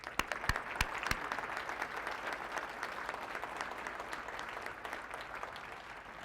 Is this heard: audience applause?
yes